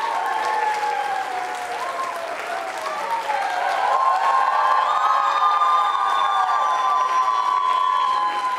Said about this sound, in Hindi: कोमल जी और मनीषा जी के लिए तालियां जोरों से बजाइए जोरदार तरीके से